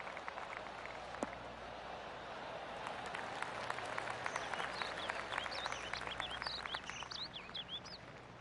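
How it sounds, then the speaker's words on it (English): Scattered golf-gallery applause in the PGA Tour 2K25 game, light clapping spread around the course under birdsong chirps, growing denser and building toward the end. "I can hear the golf claps around the course"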